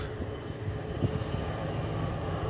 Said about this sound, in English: this plane right over there, okay, also getting ready to leave